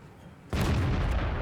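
A Tiger I tank cannon in a video game fires once after a quiet moment, giving a sudden heavy boom that holds a rumbling, roaring tail to the end.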